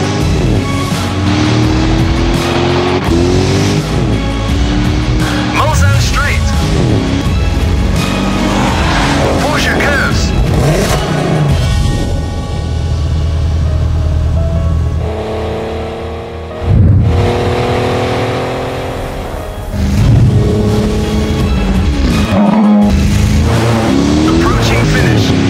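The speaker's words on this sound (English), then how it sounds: "Drive the Porsche Cayenne and experience the sports car among SUVs" Porsche Cayenne racing round the Indianapolis track in a video game, engine loud and continuous with rising and falling gear-change whines, tyre squeal, and music or effects layered over it throughout.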